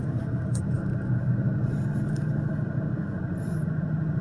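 A car drives onto the freeway, with a steady low engine and road rumble from inside the cabin and a few faint high ticks over it.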